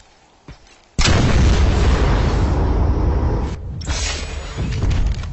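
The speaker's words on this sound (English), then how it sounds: "This Phoenix is designed to be fired from extremely long range" Phoenix rocket launcher in Planetside 2 fires once with a sudden loud blast, then a sustained roaring rush of the rocket in flight that dips briefly and swells again, with no voices.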